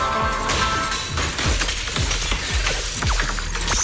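Rapid smashing attacks in the Zenless Zone Zero video game land as a dense flurry of sharp thuds, whooshes and crashing impacts layered over a busy battle soundtrack.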